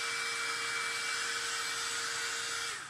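A close, loud dryer blows steadily with a constant whine while drying paint on a chalkboard surface, cutting off right at the end.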